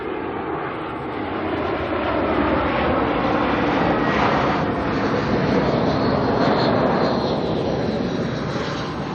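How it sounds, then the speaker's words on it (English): A Jetstar passenger jet arriving from Christchurch at Auckland Airport, a loud sustained engine roar and broad rushing wash that swells toward the middle and stays strong throughout, heard from nearby with no talk. "I've got Jetstar coming in now from Christchurch."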